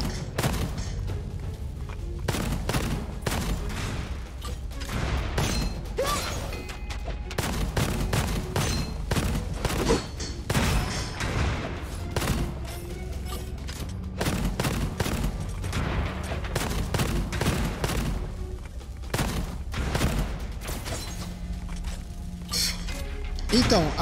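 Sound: gunfire in the video game Gunfire Reborn

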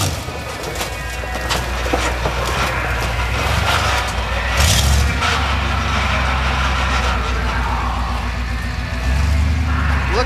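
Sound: monster truck engine smashing cars

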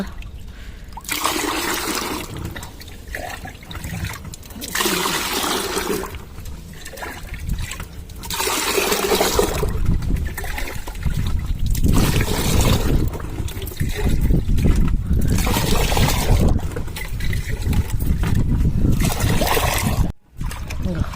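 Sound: pouring ten litres of water into a mix

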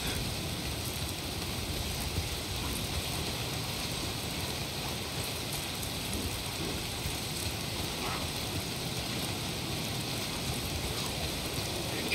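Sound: rain falling in the video game Days Gone

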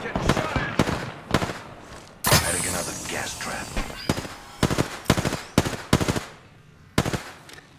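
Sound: gunfire in the video game Apex Legends

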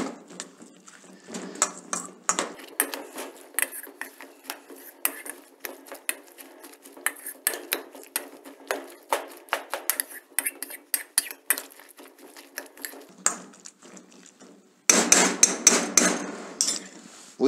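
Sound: mixing minced mutton with garlic in a bowl

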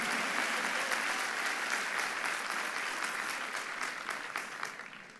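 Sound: loud applause in church

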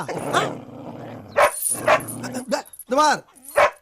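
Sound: dog barking

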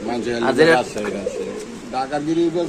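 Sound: Rajshahi Giribaz pigeons cooing at a pigeon market

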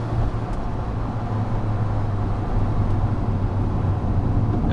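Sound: loud cabin noise while driving Alfa Romeo 4C Spider

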